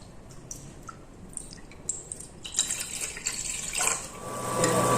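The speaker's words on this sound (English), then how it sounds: "So my water is boiling" Water heating in a pot on a stove for soya chunks, with a soft broadband hiss and bubbling that builds steadily louder toward the end, with no talk.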